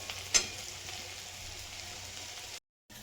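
Cluster beans (gavar) cooking in a pan over a gas flame give a steady, soft sizzle and crackle throughout, with one brief louder pop early on, then the sound cuts out near the end.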